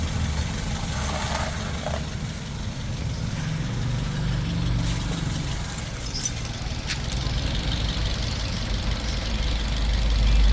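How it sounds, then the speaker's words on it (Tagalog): A noisy Toyota 2NZ-FE car engine idles with a steady low rumble and a faint ticking, with a few metallic clinks on top and a brief voice in the background. "kung maingay po yung makina"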